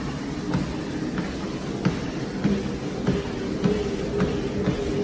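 A Sunny Health & Fitness T7643 heavy-duty walking treadmill speeds up, its belt and motor making a continuous rumbling hum with faint periodic thumps. No voices are present.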